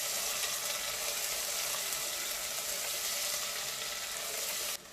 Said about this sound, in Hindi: तो इसमें हम अनियन ऐड कर देंगे और अनियन को हल्का सा सौटे करेंगे